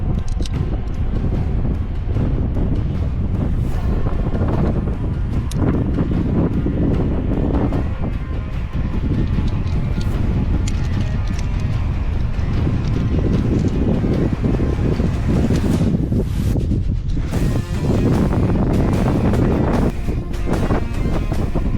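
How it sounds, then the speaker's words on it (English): Strong wind buffets the microphone high on a Red Rocks climbing route, a loud continuous roaring rush with gusty surges that never lets up, and no voices are heard. "the wind was absolutely whipping over the climb"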